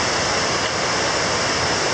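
Creek water at Eagle Creek rushes steadily over water slides, a continuous broadband wash that stays loud and even throughout with no voices.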